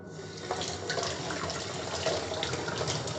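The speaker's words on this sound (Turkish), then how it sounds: "Ve duruluyorum." A baby bottle is rinsed under a running tap, with a steady stream of water splashing and gurgling continuously at close range with no voices.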